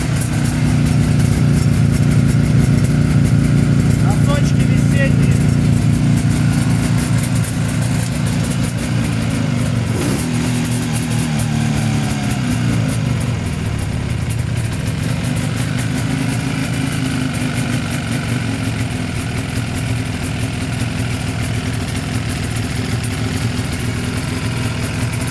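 An Izh Jupiter 5 motorcycle engine idles steadily and loudly for a long stretch, a constant low rumble with a slight change in pitch partway through.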